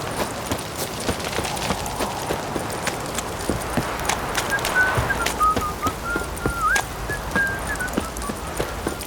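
Horse hooves clip-clop at a steady trotting rhythm in The Witcher 3, moderately close, with a faint whistled tune drifting over the hoofbeats.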